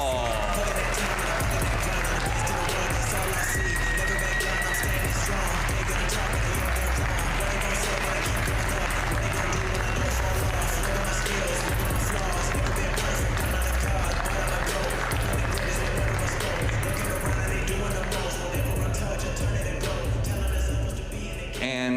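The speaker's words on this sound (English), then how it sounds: "Please welcome with a warm round of applause, Jason Shaw." An audience at a professional pool tournament, the World Pool Masters, gives sustained applause and cheering as a player is introduced, with crowd murmur and an announcer talking over the steady clapping.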